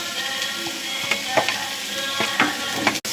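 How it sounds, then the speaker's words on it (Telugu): Green chillies, onion paste, carrots and chopped vegetables fry in a pan for street-style egg fried rice, giving a steady close sizzle broken by a few sharp stirring clinks and scrapes. "ఇలా వేసుకొని ఫ్రై చేసుకోవాలి బాగా"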